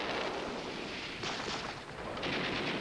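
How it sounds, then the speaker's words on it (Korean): Gunfire sound effect in a Les Misérables radio drama, with rapid, dense volleys of street shooting rumbling continuously at a distance, alone without voices. "거리의 총소리는 장발장이 숨어있는 집에까지 들려왔다."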